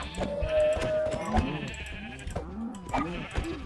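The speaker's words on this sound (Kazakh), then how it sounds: "мыналар қатты маңырап кетті ғой" Sheep bleating in the Minecraft video game: a flock giving a rapid series of overlapping, wavering bleats, one after another at close range, with no talking.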